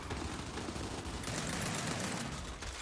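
Sustained, rapid machine gun fire from the video game Gears 5 during a competitive match, a dense unbroken rattle lasting the whole stretch at a fairly low level.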